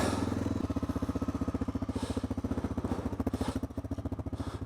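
A 33-year-old Honda motorcycle engine idles close by, firing in a steady rapid thump with a slight quickening after the first half second, alone without talk.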